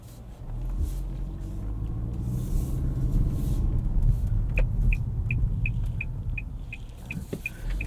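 A 2024 Nissan Altima 2.5 SL with all-wheel drive cruises on the road, a steady low engine and tyre rumble filling the cabin, with a soft repeating chime ticking near the end.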